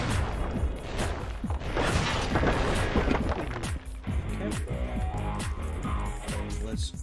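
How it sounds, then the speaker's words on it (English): Bomb blasts and booming bursts from the video game Sly 2: Band of Thieves fill the scene, dense and loud at first, then thinning into scattered thuds and crackles over a busy game soundtrack. "Throw that bomb up there"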